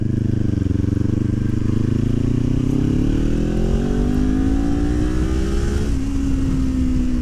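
A Kawasaki Ninja 400 with an Akrapovič exhaust accelerates hard in third gear, its engine note rising steadily in pitch as a loud, close, continuous drone with wind rush, then a brief dip at the shift.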